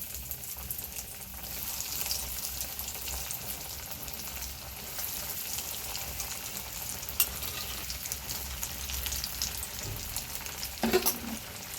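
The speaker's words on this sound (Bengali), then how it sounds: "বাকি চপগুলো ভেজে নেব এইভাবে।" Banana flower chops (mochar chop) frying in oil, a steady close crackling sizzle running throughout with a few sharper pops near the end and no talk.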